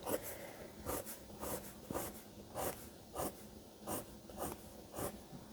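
Coloured pencil shading a feather drawing on paper, heard as steady rhythmic scratching strokes, roughly two per second, close and fairly quiet, with no talking.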